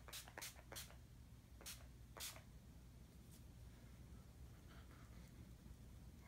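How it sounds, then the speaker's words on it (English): Several short hissing bursts of makeup setting spray onto a face, a few in quick succession, then quieter faint spritzes over a low steady background hum. "Let's just spray some more."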